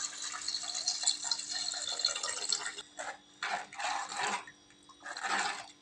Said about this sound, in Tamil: கரைச்சி வச்சுருக்க புளி தண்ணியை சேர்த்துக்கலாம்